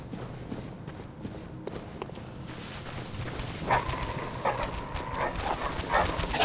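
Dogs in the video game Bloodborne, The Old Hunters DLC, giving a few sharp yips and snarling barks that rise toward the end over dark in-game ambience, fairly faint and with no speech.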